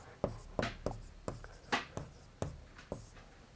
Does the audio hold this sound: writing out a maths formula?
yes